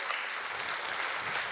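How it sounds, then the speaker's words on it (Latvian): Audience at an anniversary folk dance concert applauding to welcome the next dance, a faint, steady patter of clapping heard from a distance. "Ar aplausiem sagaidām deju"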